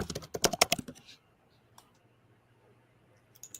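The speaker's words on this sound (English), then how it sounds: "That was some vigorous typing." Fast, vigorous typing on a computer keyboard clatters in a dense burst of loud key clicks, then stops, leaving a quiet hum with a few stray clicks.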